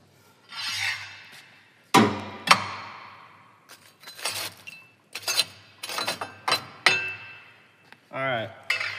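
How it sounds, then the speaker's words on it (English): Metal rake scraping and clinking over wood coals inside a Longwood wood furnace, several separate near scrapes and clanks with short pauses in between, no talking. "I might even shove those in a little with the rake."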